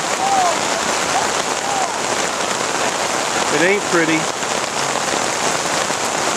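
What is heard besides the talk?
heavy rain falling on a flooded sports field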